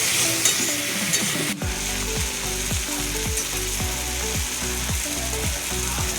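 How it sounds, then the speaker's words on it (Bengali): Repeated scraping strokes of a spatula stirring onion and tomato in a sizzling pan, rhythmic and close, over a steady frying hiss. "টমেটোটা ভালোভাবে মজে গেলে আবার তখন আবার একটু নেড়ে দেবো"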